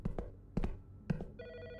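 Telephone ringing in the horror game Autopsy Simulator, a steady electronic ring that rises near the end after several soft thuds and knocks in a quiet room.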